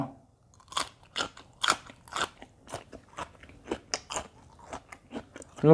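Close, crunchy chewing of chicken boiled in fish sauce eaten with som tam. The wet bites and munching come in a steady, irregular rhythm of about a dozen bursts with brief pauses between them, and no talking is heard.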